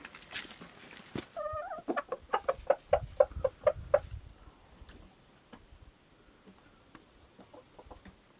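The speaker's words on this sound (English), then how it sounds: "Let's check on some chickens." Homestead chickens cluck nearby in a short burst of rapid, repeated clucks, then settle into a few quieter, scattered calls.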